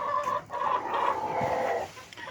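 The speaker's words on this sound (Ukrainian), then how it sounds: "Тут в мене домашні курочки." Hens cluck steadily in a small insulated winter coop, a continuous murmur of soft calls with a few sharper notes rising above it.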